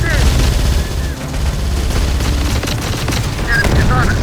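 Heavy gunfire in the Terminator: Dark Fate - Defiance war game, loud and dense with overlapping bursts and booms, shouted voices mixed in among the shooting.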